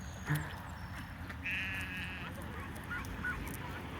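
A Chinese duck on an Ohio farm gives a faint, nasal honk among other quiet farm animal calls, with soft background noise.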